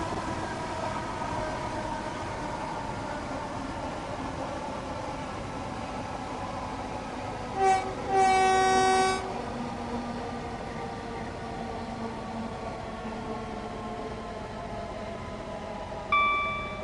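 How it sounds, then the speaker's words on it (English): A Southeastern electric train in Train Sim World 3 brakes and slows, with a steady whining hum under a constant rumble, a short bright chiming burst midway and a soft tone near the end. "enjoy some of the sounds from the brakes and the train slowing down"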